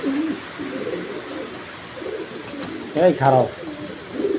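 Racing pigeon, a male of a foreign bloodline, cooing in a few short rolling bursts near the microphone, with someone talking over and between the calls.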